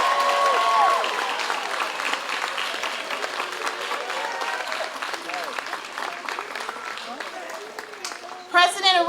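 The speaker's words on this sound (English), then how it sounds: "Please honor all master's degree awardees with your applause." Audience applause for master's degree recipients at a Wagner College graduate commencement, steady clapping heard with voices talking over it throughout and a brief louder burst near the end.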